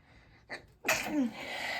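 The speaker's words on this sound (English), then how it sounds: "I'm gonna sneeze" A single loud, close sneeze, preceded by a short sharp inhale and followed by a brief breathy trail.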